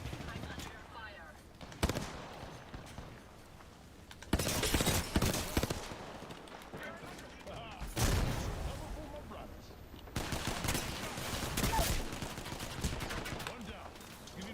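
Video game gunfire in a squad firefight, repeated loud bursts of rapid shots in several clusters separated by brief quieter gaps, close and harsh.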